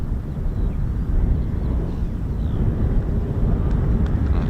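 Eurofighter Typhoon jet at RAF Marham after a go-around, a steady broad low rumble of jet engine roar at a distance, with some wind buffeting on the microphone.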